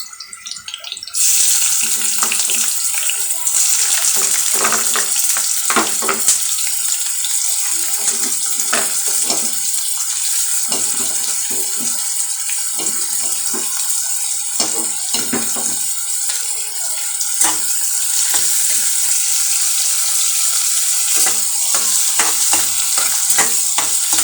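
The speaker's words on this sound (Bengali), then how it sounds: "এই পাশে আমি মাছগুলোকে ভেজে নেব।" Shrimp fry in a pan beside onions, giving a loud continuous sizzle and spatter with scraping stirs throughout, no talking.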